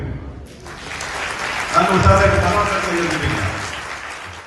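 Audience applause at a Malayalam public function about a grama panchayat project in Thavanur, a steady burst of clapping from a crowd rising after a short pause and carrying on for several seconds under a faint voice.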